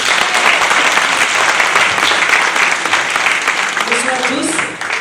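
An audience at an association inauguration claps loudly and continuously for about five seconds, a thick, even roar of hands that thins a little at the close, with a voice briefly audible near the end.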